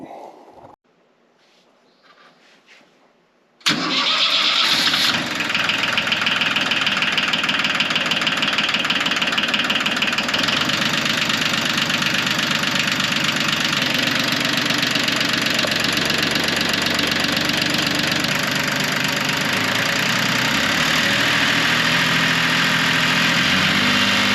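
A Yanmar diesel tractor engine, just fitted with serviced fuel injectors, cranks briefly and catches after a quiet start, then settles into a steady, loud, close idle with a rough knocking rhythm.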